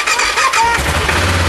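A loud motorbike engine sputters and catches on starting, its low rumble building into a rough, steady running tone up close.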